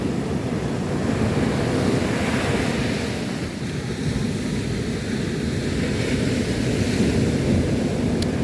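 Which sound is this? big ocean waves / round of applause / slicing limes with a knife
big ocean waves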